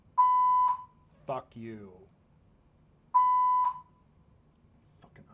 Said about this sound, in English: They can't go a week without testing the fucking fire alarm.